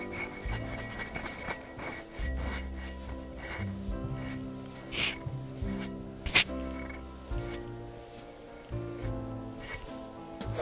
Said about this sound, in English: You can hear the texture of the label.